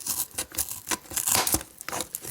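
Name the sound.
multitool scissors cutting thick cardboard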